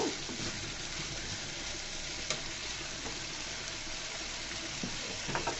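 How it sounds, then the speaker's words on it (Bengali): Thin potato slices fry and sizzle in a pan, a steady dense crackle filling the whole stretch, with a couple of faint clinks of a spatula near the end. "একটু আলুটাকে আমি কষিয়ে নিব"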